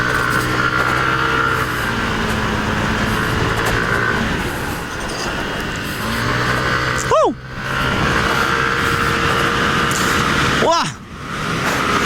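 Yamaha Aerox turbo scooter engine revving hard while riding fast on a track, a loud continuous drone with pitch sweeps as the throttle opens and eases, with a voice talking over it.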